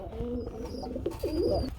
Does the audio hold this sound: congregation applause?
no